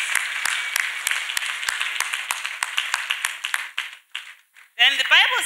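A church congregation claps along in a fairly steady rhythm, crisp hand claps close by that thin out and fade toward the end, where a voice begins speaking.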